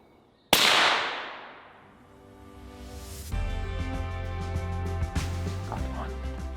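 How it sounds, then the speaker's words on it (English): A single sharp rifle shot cracks out close during a stalk for a young muntjac buck in dense undergrowth, its loud report decaying over a second or two before a steady hum and faint ambience take over. "Frederick makes a perfect shot for his second of the morning"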